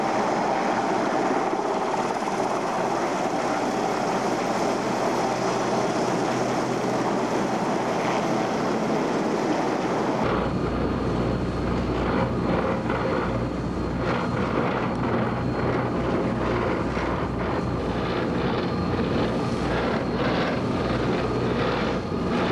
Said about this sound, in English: Certainly seems to be a lot of helicopter activity over there.